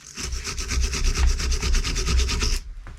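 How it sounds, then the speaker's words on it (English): The seized, rounded bleed nipple on a Mini Cooper front brake caliper gets cleaned up. A loud, steady, rhythmic back-and-forth scrubbing rasp is heard up close for about two and a half seconds, then stops, with no talking. "I'll just give it a little clean up."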